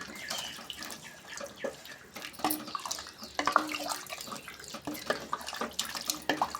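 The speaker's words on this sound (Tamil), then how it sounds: "நல்லா தண்ணி ஊற்றிக்கலாம்" Water pours and splashes while drumstick curry is cooked, a steady, moderately loud running-water sound with small uneven splashes throughout and no talk.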